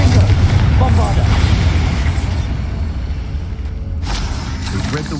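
A Bombarda spell explodes in a video game with a loud, close boom at the start, then rolling rumble and debris-like crackle that fades slowly.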